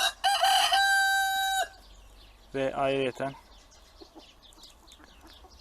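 Free-range farm hens let out a loud run of clucks and squawks, followed by a rooster's crow, then quieter scattered clucking, with a brief spoken phrase near the end.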